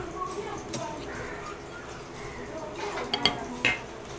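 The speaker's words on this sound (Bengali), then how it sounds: "ভাজার মধ্যে ওই কাঁচা লঙ্কা দুটো দিয়ে দিচ্ছি।" Green chillies frying in a pan, with a low steady sizzle and a few sharp metallic clinks and scrapes as a utensil stirs against the pan, close up.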